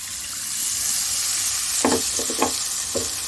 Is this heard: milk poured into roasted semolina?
yes